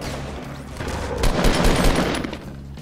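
Gunfire in Fortnite Battle Royale, a dense burst of rapid shots clustered in the middle of a short stretch, loud and close.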